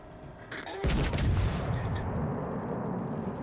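The American cruiser Worcester firing its main guns in World of Warships Legends, a quiet lead-in followed by a sudden loud booming salvo with rumbling tail that slowly fades.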